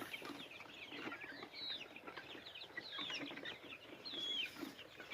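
Soft clucking from young chickens in a larger outdoor pen mingles with high chirps and squeaks in a steady, busy background, all fairly quiet and continuous.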